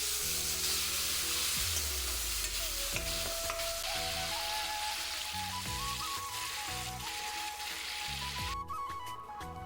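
Dal with turmeric goes into hot oil in a pan and sizzles steadily up close under a loud hiss, while a repeating melodic tone plays throughout.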